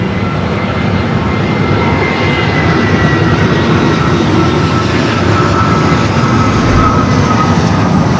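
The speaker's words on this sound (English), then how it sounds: "747-400 freighter." A Boeing 747-400 freighter jet at Los Angeles airport gives off a steady, loud engine roar with faint whining tones above it, holding constant without a break.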